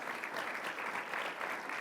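Audience at a conference in Iceland applauding, a dense, even patter of many clapping hands, sustained and fairly faint, heard alone.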